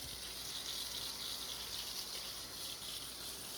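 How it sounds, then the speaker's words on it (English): Water running steadily to rinse soap suds out of a rainbow spiral tie-dye shirt, a soft, even gush throughout with no voices. "just a little light rinse, get most of these suds out"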